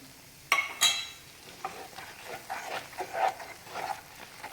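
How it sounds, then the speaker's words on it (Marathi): Ghee added to a Mysore pak mixture in a pan, with soft intermittent stirring scrapes and light sizzling, a couple of sharper clinks near the start, faint and close. "अजून एक चमचा मी तूप टाकून घेते"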